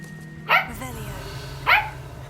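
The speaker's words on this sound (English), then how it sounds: "Stop barking." A dog in the video game Hogwarts Legacy gives two sharp, close barks about a second apart over a low background hum.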